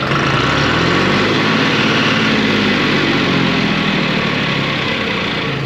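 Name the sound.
tractor engine whining and surging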